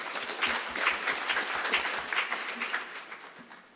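Delegates at an African engineering week conference applaud in a moderate, steady round of clapping that tapers off toward the end.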